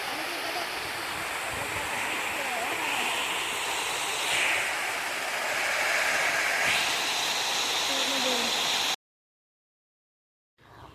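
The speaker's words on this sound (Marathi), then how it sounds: "सुंदर धबधबा इथे चालू आहे पाण्याचा" A waterfall in a garden roars in a constant, rushing wash of water, close and loud, before cutting abruptly to silence near the end.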